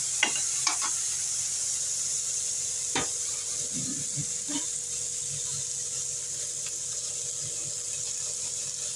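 Adamant creeper (pirandai) sautéing in a pan for thokku gives a steady soft sizzle, broken by a few sharp scrapes and clicks of stirring, with no talking.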